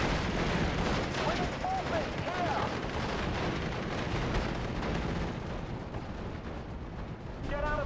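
Artillery barrage firing for effect in Steel Division: Normandy 44, a dense continuous rumble of distant explosions and gunfire with overlapping impacts, under battle noise and faint voices.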